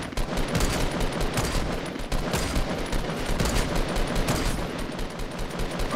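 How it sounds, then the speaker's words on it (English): Dense, continuous gunfire from a Fortnite battle royale match, a steady barrage of overlapping shots that sound somewhat distant, with no voices over it. "They're shooting at each other."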